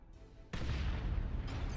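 In the Dawn of War 2 video game, an orc stockpile of fuel and ordnance goes up in a sudden loud, deep explosion that roars on for over a second after a quiet lead-in.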